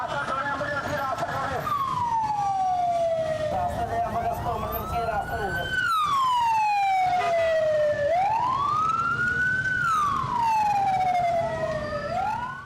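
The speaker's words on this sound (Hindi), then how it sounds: "हम आपको दिखाएंगे कि एम्बुलेंस जब सड़क पर गुजरती है" An ambulance siren wails on a road as it passes, loud and near, its pitch sweeping up and down in long repeating cycles over traffic noise.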